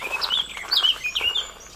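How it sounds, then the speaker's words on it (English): A songbird singing from the top of a larch tree outdoors delivers a quick run of bright, high chirps and warbled phrases, clear and moderately close, with no talk over it. "that's a bird up there"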